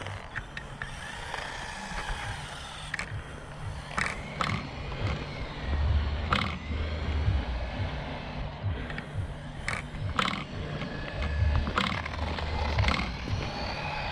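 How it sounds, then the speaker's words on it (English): A small LD2801 1/28 scale 4wd RC VW Polo runs at a skate park, its tiny motor giving off a faint, steady whine. Soft creaks and scattered clicks sound over quiet outdoor background. "So quiet, this little motor."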